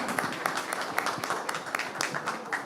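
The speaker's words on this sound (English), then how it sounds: "Ladies and gentlemen, can we have a big round of applause, please?" Moderate applause from an awards-ceremony audience, steady broadband clapping with scattered sharper claps, fairly close and continuous throughout.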